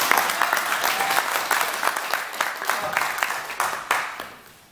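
An audience at a Korean talk or lecture event claps to welcome a nuclear engineering student from Chung-Ang University, a dense round of applause with a few sharper claps, fading out over the final second.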